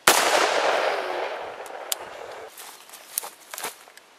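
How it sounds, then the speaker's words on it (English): A 5.56mm rifle fires a single live round at point-blank range, one sharp loud blast with a decaying echo, followed by faint scattered clicks and rustles. "Gonna blast them with some real rounds now?"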